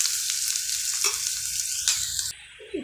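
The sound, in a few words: sautéing crushed garlic in a pan for rasam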